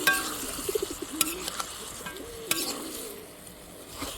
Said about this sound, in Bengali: এখন মাংসটাকে মশলার মধ্যে কষিয়ে নেব বেশ কিছুক্ষণ ধরে।